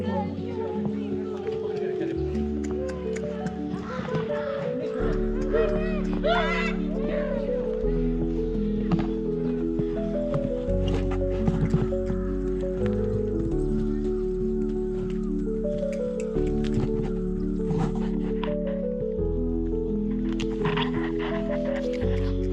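Horses walk along on a pony ride at Patnitop, their hooves clip-clopping faintly beneath steady music while people talk over it.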